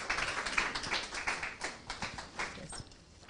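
An audience at a launch event applauds, a dense patter of many hands clapping at moderate distance that gradually thins out toward the end, with no talking.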